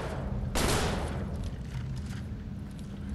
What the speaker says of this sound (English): Who the fuck is shooting?